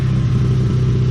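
2012 Honda Civic Si engine fitted with a new downpipe exhaust that has a leak, a loud, steady close-up drone with a rough, rumbling edge and no voices.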